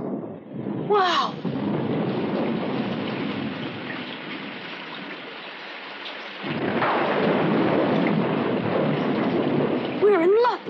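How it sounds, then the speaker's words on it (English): Heavy rain pours steadily in a thunderstorm, with thunder rumbling and a surge of louder downpour midway; brief voices break in near the start and end. "Looks like there's going to be a big storm."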